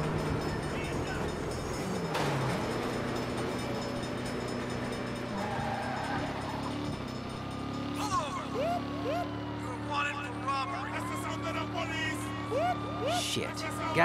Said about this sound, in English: Bad time for a train.